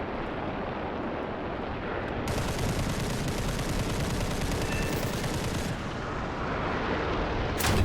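Twin 20mm cannons on a Kai 43 fighter fire in War Thunder, a dense rapid stream of heavy reports sustained for several seconds over engine roar, then ending with a final burst.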